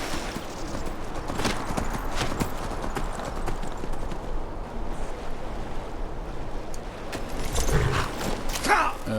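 A horse in Skyrim trots along with close, steady clip-clopping hooves throughout, joined near the end by brief creaks and a faint clatter.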